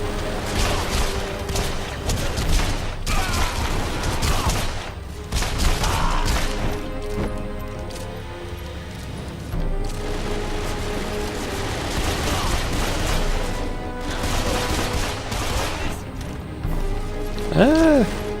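Dense, rapid gunshots from dual pistols in the video game Deadfall Adventures crackle and crash through most of the stretch, layered over game music and effects, with a voice talking at times.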